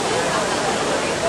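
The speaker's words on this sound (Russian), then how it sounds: "Просто цветные фонтаны. И все это стекает." Water from the Magic Fountain of Montjuïc in Barcelona at night rushes and splashes in a dense, steady roar, with voices mixed into the wash.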